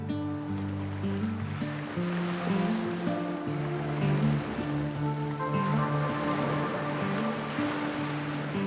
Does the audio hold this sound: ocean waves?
yes